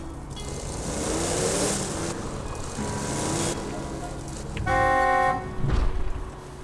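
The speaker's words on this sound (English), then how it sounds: "Just drive up and honk your horn." Car horn honking in Borderlands 2, a short steady blast standing out near the end over rumbling vehicle engine and game ambience.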